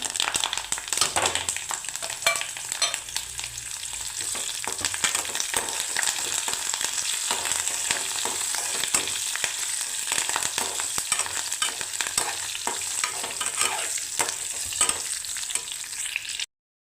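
Steady crackling sizzle of spices tempering in hot oil for jackfruit seed gravy, continuous and fairly loud throughout with brief stirring clatters.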